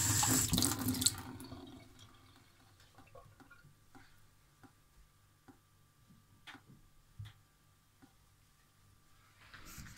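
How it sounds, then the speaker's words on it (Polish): Water runs from a repaired retro faucet into a sink, a brief strong gush at the start that fades to quiet, leaving faint scattered ticks and small drips. "Już odkręciliśmy wodę i teraz zobaczmy, czy udała się naprawa."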